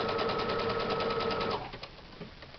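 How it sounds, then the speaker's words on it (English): A sewing machine stitches boxing wraps in a fast, even mechanical whir for about a second and a half, then stops, leaving faint handling noise. "I'm going to keep stitching."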